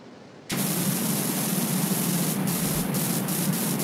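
A virtual pressure washer fitted with the red nozzle bursts into action, its loud, steady hiss of spraying water starting abruptly after a moment of quiet and holding constant.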